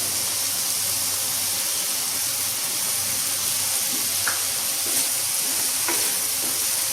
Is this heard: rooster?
no